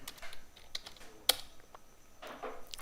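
Computer keyboard typing in irregular quick bursts of soft clicking keystrokes, close and fairly quiet, with one sharper key hit partway through.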